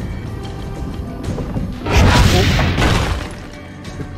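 Heavy cannon fire booms out in Assassin's Creed Brotherhood, a broad crashing blast swelling near the middle of the moment and fading slowly, with a brief spoken exclamation over it.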